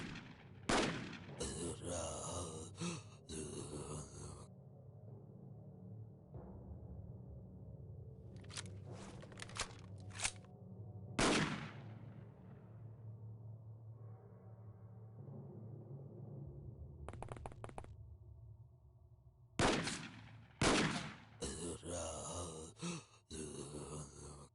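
Gunfire in the video game X-Com Files comes in sharp bursts and volleys separated by quieter stretches, with a few low grunts in between.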